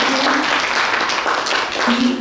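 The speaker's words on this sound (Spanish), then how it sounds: "Los recibimos con un aplauso" Audience applause welcoming a speaker at a Bolivian higher-education talk, a steady wash of clapping at moderate level for about two seconds, with a faint voice briefly underneath.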